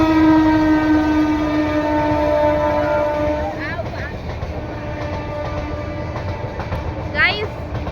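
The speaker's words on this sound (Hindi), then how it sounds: "और यहाँ से ट्रेन भी जा रही है।" A train passes nearby in Ayodhya, its horn sounding steady and loud at first, then giving way to rumbling rail noise with faint clatter, while people talk over it.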